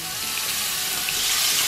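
Butter and garlic sizzling in a hot pan, a steady bright hiss that swells slightly toward the end, close and continuous with no talk.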